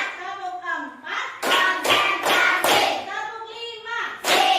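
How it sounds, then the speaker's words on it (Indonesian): Classroom children clap in unison on a teacher's count, several sharp group claps in a steady rhythm, close and loud, with the teacher's voice leading before the claps. "Oke, tepuk 1, tepuk 2, tepuk 3, tepuk 4"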